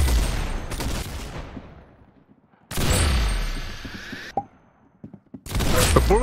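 Gunfire in the Roblox Arsenal shooter game comes as bursts of loud rapid shots separated by short gaps, with a few isolated pops between them.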